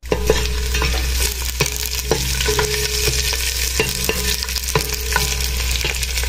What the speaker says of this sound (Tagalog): maluluto po ako ng ampalaya